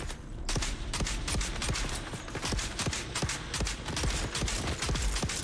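Rapid, steady gunfire from a weapon in the video game Dune: Awakening, loud sharp shots repeating for several seconds with a mechanical clatter and no voices.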